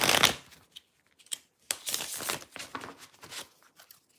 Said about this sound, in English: I'm going to shuffle this again and get you different energy